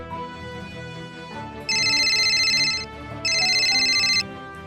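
A mobile phone ringtone sounds in two bright, loud, repeating bursts over soft background music, signalling an incoming call.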